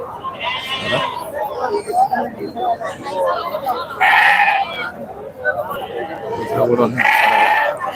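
Rams bleating in bursts at a busy livestock market in Pebbeir, with loud calls around four and seven seconds over steady crowd chatter and nearby talk.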